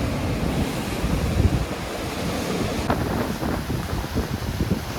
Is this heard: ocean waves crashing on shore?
yes